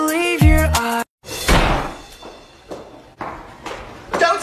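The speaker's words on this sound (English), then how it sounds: "Don't slam my door." A door slams with one heavy thud just after a short spoken line in a comedy skit, then quieter shuffling and movement.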